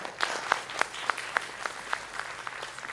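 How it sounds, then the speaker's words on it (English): Sparse, scattered claps from an audience at a university discussion on the Union Budget 2023-24, about a dozen distinct hand claps spread unevenly across the moment, moderately near and fairly light rather than a full ovation. "May I have a big round of applause for all of them?"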